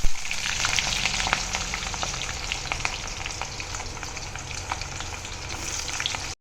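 Chopped medium onions sizzle and crackle steadily in a hot pan while being fried until lightly browned, a continuous close frying hiss with small pops and no voices.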